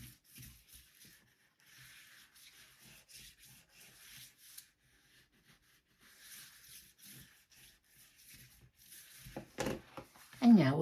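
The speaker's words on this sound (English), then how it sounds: "then we will burnish it down" Glued paper is burnished down by hand, faint dry rubbing strokes in short repeated bursts, with a voice speaking between them.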